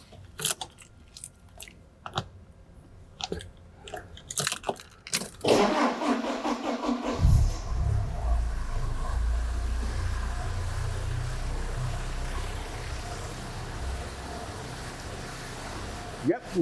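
A petrol car with multipoint fuel injection cranks and fires up in a workshop, catching after a few clicks and settling into a steady, close, low idle rumble that continues to the end.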